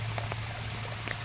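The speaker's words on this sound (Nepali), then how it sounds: "यत्रो खोला बगिरहेछ" Rainwater runs in a steady stream during a rain shower, a faint continuous rushing wash with a low hum beneath it and a few soft drip-like ticks.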